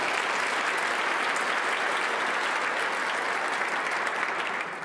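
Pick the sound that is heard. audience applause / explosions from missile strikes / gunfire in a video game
audience applause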